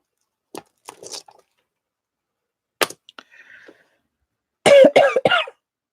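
Several sharp coughs in quick bursts, a pair early on, another few mid-way, then a louder, close cluster of harsh coughs near the end, with quiet gaps between.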